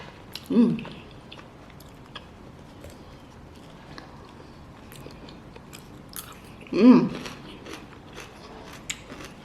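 Two crunchy bites of raw cabbage a few seconds apart, close and loud, with quiet chewing noises in between.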